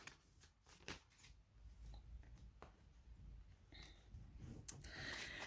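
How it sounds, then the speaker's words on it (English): Tarot cards shuffled and pulled from the deck, faint close papery flicks, slides and taps scattered irregularly over a quiet, soft background hiss. "Let me just pull some other cards for you, see what else we get."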